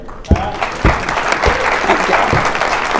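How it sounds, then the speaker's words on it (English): Applause from an audience at a Future Farmers of America gathering in North Georgia, a steady, full round of clapping lasting a few seconds with crowd noise mixed in. "give her a round of applause for just making the trip"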